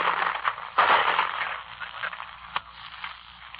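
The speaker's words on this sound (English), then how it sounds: "Those, my friends, are bullets." Rifle fire crackles in a World War II frontline archival radio recording, sharp cracks and bursts over a band-limited, hissy broadcast sound, fairly loud with a few distinct louder shots.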